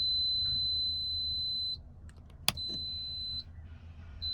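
The sure deploy system on a VMI Northstar wheelchair-van ramp fitted to a 2012 Honda Odyssey sounds a long, steady electronic tone. The tone cuts off, then a single shorter beep follows, with a soft click between them.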